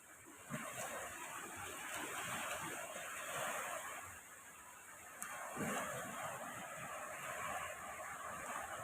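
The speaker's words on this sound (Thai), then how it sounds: "ภาพบรรยากาศริมทะเล เช้าเช้า" Morning sea waves wash onto the shore at Ao Noi bay in Prachuap Khiri Khan, a steady, moderately loud rush of surf with a few heavier breaking swells and some wind, and no talk.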